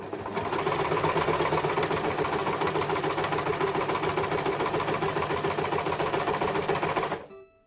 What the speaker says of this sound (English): Now I'm going to lengthen it to 4 and then continue to sew that seam up.